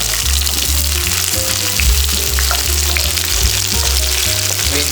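Onions frying in hot sunflower oil for chicken chili, a loud, dense, continuous sizzle close up, with faint stirring clinks and no talking.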